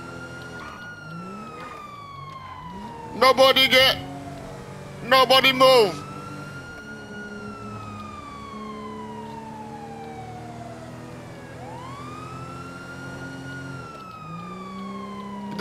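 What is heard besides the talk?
police car sirens in video game GTA 5 Online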